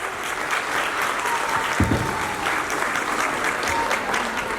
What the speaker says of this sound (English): Please give them a huge round of applause, parents.